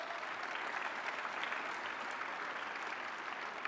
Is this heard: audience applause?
yes